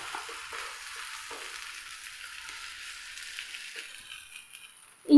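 Rice breakfast cakes made from leftover rice fry in a lightly oil-brushed pan with a soft, steady sizzle, ending in a sudden sharp knock.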